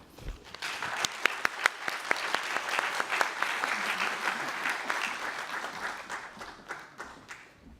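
An audience applauding to welcome an honoree onto the stage at an evening awards event, a dense wash of clapping with sharp individual claps that builds and then gradually fades, heard alone.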